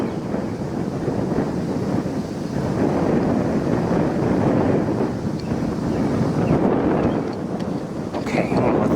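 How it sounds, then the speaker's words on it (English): Strong gusty wind buffets an outdoor microphone during a birding live stream, giving a continuous low roar that swells and eases in slow waves with no talk over it. "The wind is not helping."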